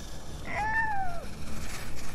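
A cat meows once, a clear rising-and-falling call heard alone against a quiet night room, fairly close.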